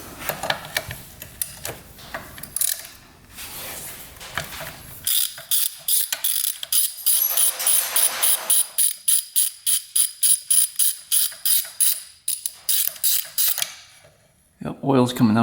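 Ratcheting clicks from a wrench loosening a bolt with a crush washer on a 2-stroke triple motorcycle, a long run of evenly spaced sharp clicks that starts busy, settles into a steady rhythm, then stops, ending with a brief thump.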